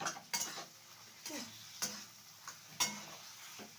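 A paneer mixture is stirred in a kadai, giving a few sharp scrapes and clinks of the utensil against the pan at irregular intervals over a soft, faint sizzle.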